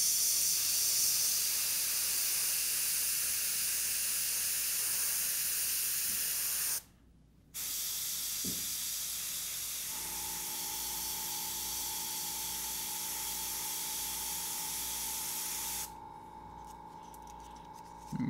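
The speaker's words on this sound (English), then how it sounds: "And once I have the tape, I can spray the positioning marks." Airbrush spraying paint over a stencil on a zombie-themed painting, a steady hissing spray that drops out briefly around the middle, then resumes with a compressor-like hum underneath.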